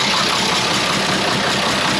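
A tractor runs with a sunflower shredder mowing stalks in a field, giving a steady, loud, dense mechanical roar of engine and cutting machinery without pause.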